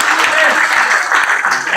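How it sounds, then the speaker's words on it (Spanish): A church congregation applauds during a Spanish-language Christian service, a dense, steady wash of clapping that fills the whole stretch at close range with voices mixed in. "Da un aplauso a Cristo y ya."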